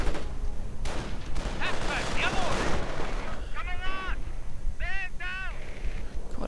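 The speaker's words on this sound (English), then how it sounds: "but they are getting sniped at" In a WWII strategy video game, rifle fire cracks at infantry amid rumbling battle noise, with scattered shots throughout. Voices shout briefly over the gunfire partway through.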